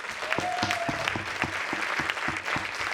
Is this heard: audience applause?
yes